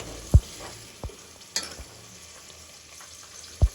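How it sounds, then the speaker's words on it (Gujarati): A few scattered scrapes and knocks of a spoon stirring pav bhaji curry in a pan over a faint, steady hiss of cooking, with no talking. "બરાબર મિક્સ કરીને હલાવશું અને થોડી વાર પાકવા દઈશું"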